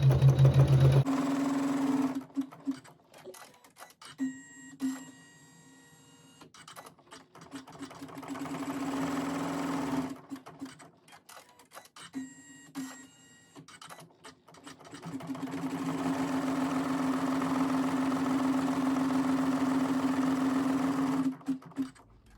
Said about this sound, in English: with a thread that matches our fabric, we'll sew the tack down